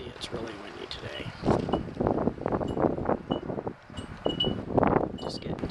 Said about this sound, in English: Hard to see, it's really windy today.